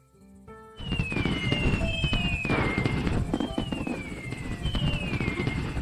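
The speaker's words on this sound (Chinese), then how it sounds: "大王，看烟花，" Fireworks go off in a dense, loud barrage: several whistling rockets glide downward in pitch over continuous crackling bursts, with no speech.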